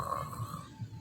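A child imitates snoring with a few low, rough, breathy rumbles in a short, quiet burst, each swelling and fading in an uneven rhythm.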